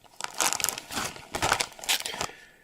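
A transparent fire-retardant plastic bag of teenage fireworks crinkles in repeated close bursts of crisp rustling and crackling plastic, with no talking.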